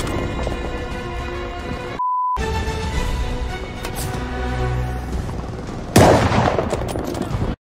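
Gunfire in the Call of Duty Vanguard Stalingrad battle, with a German Sd.Kfz. 251 half-track and a machine gunner: dense, continuous rattling shots and rumble, a brief dropout near two seconds, then a louder burst near the end.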